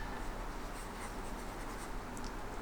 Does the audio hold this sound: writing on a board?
yes